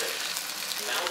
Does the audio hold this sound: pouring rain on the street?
no